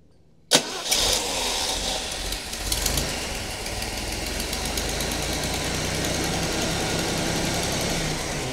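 Cold engine in a truck fitted with an SM420 four-speed swap cranks abruptly and catches, then settles into a steady, fairly loud idle that runs on alone with no talking.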